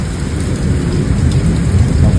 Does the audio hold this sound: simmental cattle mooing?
no